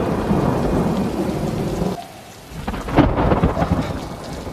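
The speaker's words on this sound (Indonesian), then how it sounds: "Tiba-tiba hujan turun." Heavy rain pouring steadily, a brief lull, then a sharp crack of thunder rumbling close amid the downpour.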